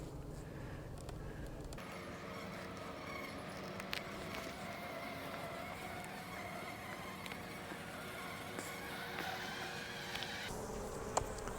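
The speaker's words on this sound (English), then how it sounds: "And there's so many bees in here, it's going to be difficult." Dense, steady buzzing of a crowded beehive nuc packed with bees, a continuous drone that holds throughout with a few faint clicks of hive handling on top.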